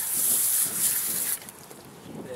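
Water is sprayed onto a truck wheel to wet it down before detailing, heard as a loud, steady hiss that drops off abruptly partway through, leaving quieter background noise.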